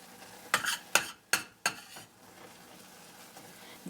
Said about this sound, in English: continue to mix until it forms kind of a little ball and starts to separate from the sides of the pan